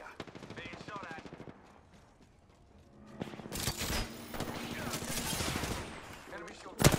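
Automatic weapon fire from the Apex Legends battle royale game, bursts of rapid shots crackling loudly for several seconds after an initial stretch of quieter game ambience, rising to a sharp peak at the end.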